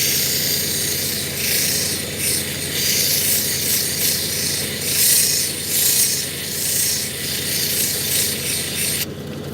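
A fire obsidian cabochon is ground on a flat lap with 1200 grit, giving a continuous wet rasping hiss that swells and eases in slow strokes, close and alone, cutting off sharply near the end.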